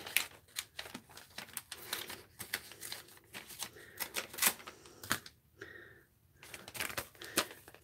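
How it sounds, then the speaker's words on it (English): Paper envelopes are torn and crinkled open at close range in a quiet room, a busy run of sharp rustles, rips and taps with brief pauses, and no voices. "Just not having a good time opening envelopes today."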